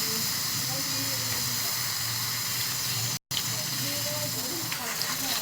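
Chicken and lentil shami kababs sizzle steadily in a pan, a continuous close hiss that runs unbroken apart from one brief dropout, with faint kitchen clatter beneath.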